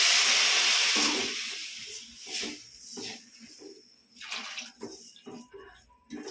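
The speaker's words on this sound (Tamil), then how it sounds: "தண்ணி ஊற்றுறேன்" Water pours and splashes into a cooking pot for cabbage and radish kuzhambu, loud at first and then easing into softer, intermittent trickles and sloshing.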